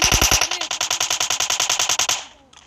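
Rapid automatic gunfire from a first-person shooter video game, a steady burst of about twenty loud, evenly spaced shots over roughly two seconds, then cutting off into a brief fading echo.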